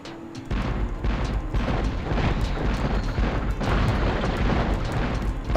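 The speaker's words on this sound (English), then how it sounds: "get in the cannon and you immediately just start shooting" A cannon fires over and over in a video game, a dense barrage of loud booming blasts that run together into a continuous roar after a brief quieter start, with no talking.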